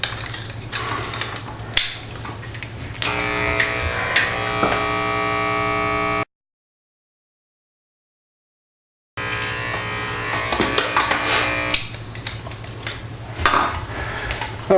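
Electric hair clippers running with no guard while cutting a mohawk, a steady electric buzz with a strong hum, broken by a short silent gap and then resuming with small clicks and scraping contact, close-up with no talk.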